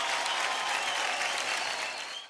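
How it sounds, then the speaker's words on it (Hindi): Loud, dense studio-audience applause on a Hindi kitchen competition show, sustained and fairly even throughout before easing slightly at the end, with no talking over it. "इनके लिए तूफानी तालियां"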